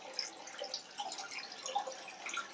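Water draining from a fish tank into a bucket set up on a stool, a soft, steady trickle with faint splashes and drips, quiet and close with no talking.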